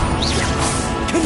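The Expelliarmus spell in Hogwarts Legacy goes off as a sharp, crashing magical whoosh, one loud burst lasting about a second over dense game noise.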